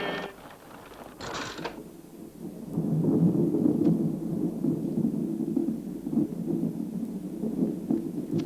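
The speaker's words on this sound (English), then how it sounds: "Storm's passing now, miss." A thunderstorm with thunder in a rural setting: a low rolling rumble swells after a few seconds and lingers, with a few sharp crackling bursts at the start, no voices.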